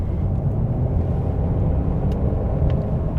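A 2021 Mercedes-Benz E350 with a 4-cylinder engine runs at a steady idle, a loud, even low rumble heard from up close with no other sounds over it.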